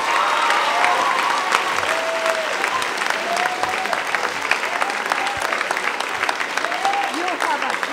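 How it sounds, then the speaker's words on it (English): Steady, fairly close applause from an audience at a middle school awards night, many hands clapping evenly throughout, with faint voices and cheers mixed into the crowd. "if you wouldn't mind holding the applause again, just so we hear their names clearly, Miss Chloe Allendorf and Mr. Benjamin Medei"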